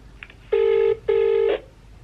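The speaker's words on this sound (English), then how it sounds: "I'm about to call the number now and see what it says." Two long ringback tones sound on a telephone line while a number is being called, each about half a second, separated by a short gap, loud and clear with no voices.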